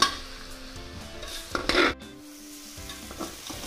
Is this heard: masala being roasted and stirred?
yes